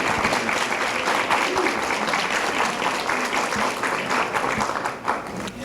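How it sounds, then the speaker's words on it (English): Steady, dense applause from an audience at a parents' council meeting, continuous and even for the whole stretch, fading slightly near the end with a faint voice underneath. "Can we give them a round of applause once again?"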